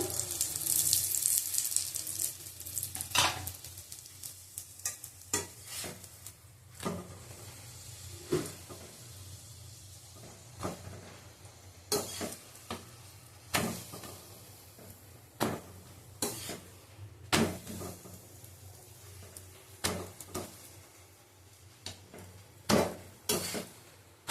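Aloo paratha frying in oil in a pan, a soft steady sizzle broken by repeated scraping and clattering taps of a spatula, close by with no talking.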